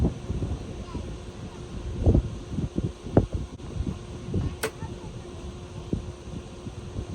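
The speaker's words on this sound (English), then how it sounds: "why is that wind so crazy?" Strong gusting wind outdoors at a 100-yard archery range buffets the microphone in irregular low rumbling bursts, loud and close, with a sharp snap partway through.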